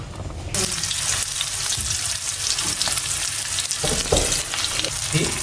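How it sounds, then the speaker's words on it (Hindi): Three chapli kebab patties bound with egg and gram flour frying in hot ghee, a dense, loud, continuous sizzle that swells after a brief quieter start and holds steady to the end. "घी गरम हो गया था। ये देखे 3 टिक्की हमने इसके अंदर डाल दी।"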